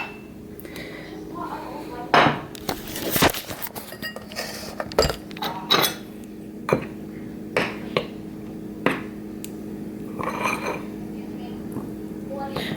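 Water and flour are stirred together for a sourdough starter, with a spoon tapping and clinking against the container in irregular sharp knocks over a steady low hum.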